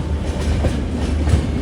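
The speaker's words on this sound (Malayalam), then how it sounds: "വിജയവാഡയിലേക്ക് ഇതാ ട്രെയിൻ എത്തുകയാണ്." A Humsafar Express passenger train rolls toward Vijayawada with a steady rumble and rhythmic clickety-clack of wheels over rail joints, heard close from inside the moving train.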